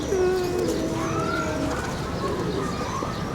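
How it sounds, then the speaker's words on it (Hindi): Pigeons coo close by in a series of soft, rolling calls that overlap one another against a faint background hum. "ये वाले कबूतर है जी"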